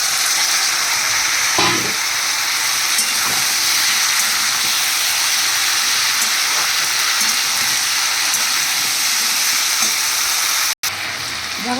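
Vegetables are tipped into onions frying in a pan for an okra and potato curry. A loud, steady, close sizzle runs throughout, with a brief dull thump early on and a sharp click near the end, and no talking.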